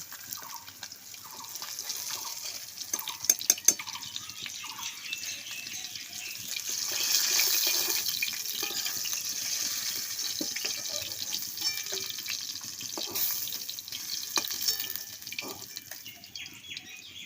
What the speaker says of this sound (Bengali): মাছের এই মাথাটাও আমি ভেজে মাছের তরকারির মধ্যে দিয়ে দেবো ভেজে নিচ্ছি